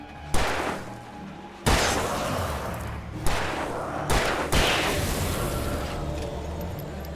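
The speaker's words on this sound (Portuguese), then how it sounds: "Que tiro foi esse?" Several loud, sharp gunshots from the video game Alan Wake Remastered ring out at irregular intervals, each a sudden broadband crack followed by a long reverberating tail, about five blasts over several seconds.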